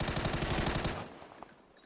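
A burst of rapid automatic gunfire spray in PUBG on PS5, Miramar map, rattles for about a second, then cuts off, leaving faint echoing shots and ambient game noise.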